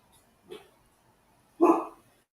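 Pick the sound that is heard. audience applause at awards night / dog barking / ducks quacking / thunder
dog barking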